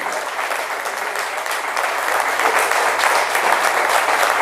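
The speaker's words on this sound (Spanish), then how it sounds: "Dale un fuerte aplauso a su Dios." A church congregation claps in strong, sustained applause for God during a Spanish-language service. The clapping is dense and loud and swells slightly toward the end, with no speech on top.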